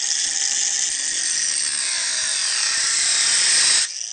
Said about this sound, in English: I'm going to take my earplugs and my little cut-off tool here, and I'm just going to cut the bottle all the way around